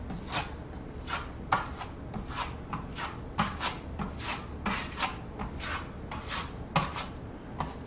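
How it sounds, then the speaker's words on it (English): An 8-inch drywall trowel spreading a second coat of mud onto a repaired wall under firm pressure, a series of close, rhythmic scraping swipes repeating roughly every half second, with no talk. "when you're applying your second coat, you can use your 8-inch trowel to get the mud on the wall"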